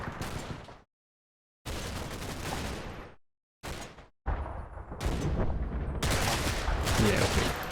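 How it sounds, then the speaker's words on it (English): Bursts of gunfire in the Combat Mission: Battle for Normandy war game, loud and dense, broken by brief silent gaps, then building into a sustained heavy fusillade toward the end. "Just generally getting shot at a little bit"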